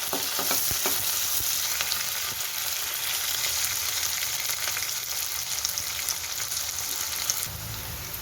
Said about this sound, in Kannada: ಈರುಳ್ಳಿನ ಒಂದು ಸ್ವಲ್ಪ ಕಲರ್ ಬರೋವರೆಗೂ ಬಾಡಿಸ್ಕೊಳ್ಳಿ